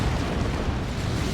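In the Warhammer 40,000: Dawn of War 2 video game, a lascannon destroys a Chimera tank with a dense, roaring explosion that rumbles steadily and loudly for over a second.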